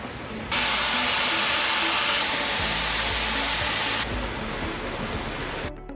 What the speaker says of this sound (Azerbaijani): Ondan sonra buxarın verilməsi başlayır.